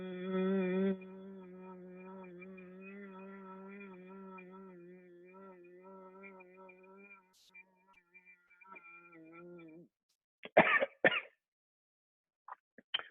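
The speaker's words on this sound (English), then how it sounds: "you close your larynx and try to breathe in very slowly and gently" A person practises Ujjayi pranayama, breathing slowly through a closed larynx. A faint, steady, tonal breath hums for about seven seconds, then scattered soft sounds and a couple of short coughs follow near the end.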